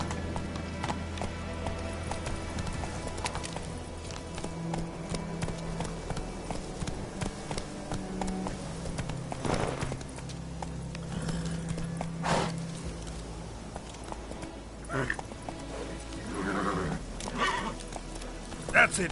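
Horse Roach galloping in The Witcher 3, with steady hoofbeats, occasional whinnies and snorts under a game soundscape, and a voice speaking now and then.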